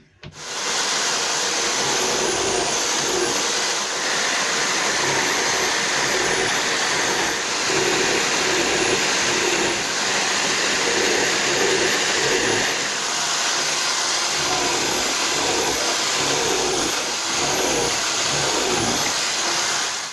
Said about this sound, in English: 108 holes drilled with this, which is okay.